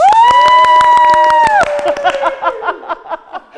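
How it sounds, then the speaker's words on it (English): A studio audience at a Christmas TV special claps in a dense, close burst of applause; a sustained, tonal voice-like note rings over the first half before the clapping carries on alone and thins out. "the studio audience has got to clap for that"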